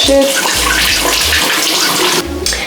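Steady running water from a tap splashes loudly and continuously while face cleanser is rinsed off at a sink.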